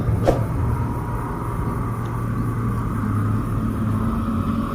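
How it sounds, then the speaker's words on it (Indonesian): Trucks rumble continuously as they move back and forth at the Padang–Sicincin toll road flyover construction site, a steady low engine drone with a faint click near the start and no speech. "aktivitas hilir mudik truk di kawasan ini cukup padat sekali, cukup banyak sekali"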